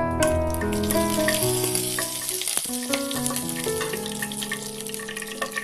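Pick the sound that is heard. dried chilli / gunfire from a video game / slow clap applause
dried chilli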